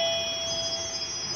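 An ELITEK HT2A infrared door chime alarm rings with a steady, bright electronic tone that sustains throughout, loud and close with no talk.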